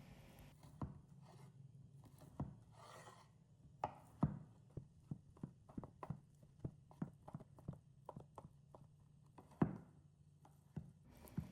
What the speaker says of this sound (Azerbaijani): Salat üçün öncəliklə toyuğun bişmiş sinə ətini nazildib kub şəklində doğrayıram.